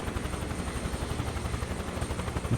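Rotor blades of a Huey helicopter in Microsoft Flight Simulator 2024 beat in a rapid, even rhythm over a constant turbine whine and broad wind roar, close and unbroken.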